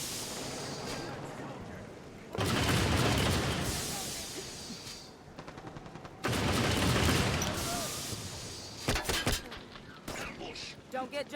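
Heavy gunfire and explosive booms in Halo 5: Guardians, loud sustained roaring blasts in two long waves followed by a few sharp shots, with a voice talking over parts of it.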